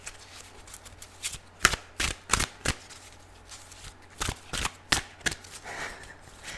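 Tarot cards are shuffled close by in a series of quick, crisp riffling bursts separated by short pauses.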